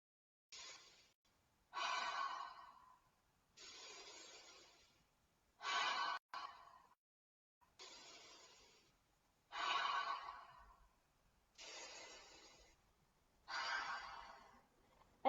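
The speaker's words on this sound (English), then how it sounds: "putting all your focus on your in breath and you let go with the out breath" Slow, deep breaths through the nose or mouth, eight long airy bursts spaced about two seconds apart, close and clear against near silence, each rising and fading gently.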